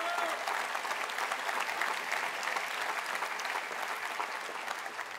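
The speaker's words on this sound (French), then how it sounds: "Vous pouvez les applaudir." A crowd applauds campaign staff during a political speech at Le Cannet, a continuous broad patter of clapping that holds steady and fades slightly at the end, heard alone.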